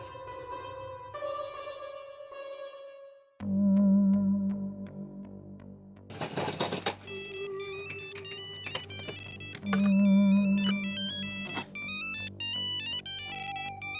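A phone ringtone plays a bright electronic melody, looping with repeated tones and short pauses, fairly close and clear.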